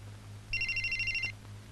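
A telephone rings in a single rapid electronic trill lasting under a second, clear and fairly close over a low steady hum in a quiet room.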